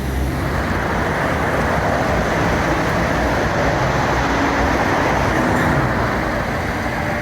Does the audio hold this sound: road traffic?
yes